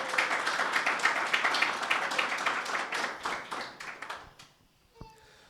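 A church congregation claps during a Sunday meeting, a dense burst of many hands applauding loudly before tapering off into a few scattered claps and quiet.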